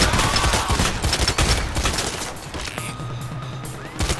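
Heavy gunfire in the Payday The Heist game on the Heat Street level, a sustained barrage of overlapping shots that is loud at first and thins out slightly later on.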